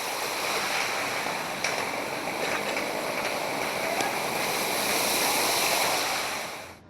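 Floodwater after rain streams through city streets, a steady rushing wash of water that holds constant and fades at the end, with no clear voices over it.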